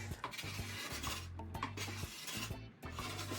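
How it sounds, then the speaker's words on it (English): Sanding on an Olive Meyer wooden chest during furniture restoration: a steady, close raspy rubbing in repeated back-and-forth strokes with brief pauses, alone without talk. "So I'll just let you sit with the sound of sanding for a moment"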